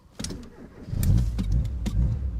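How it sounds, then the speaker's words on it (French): A Vega Missyl car's engine cranks and catches after the ignition and a red button, sputtering briefly then settling into a loud, close, rough idle with a few revs. "Ensuite, je mets le contact et j'appuie sur le bouton rouge."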